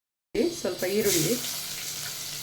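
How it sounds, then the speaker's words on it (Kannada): Onions dropped into hot oil for tempering an egg gravy, setting off a sudden steady sizzle that stays close and continuous after a brief spoken word. "ಇದೇ ಎಣ್ಣೆಗೆ ಈರುಳ್ಳಿ ಹಾಕಿ ಒಗ್ಗರಣೆ ಹಾಕಬೇಕು."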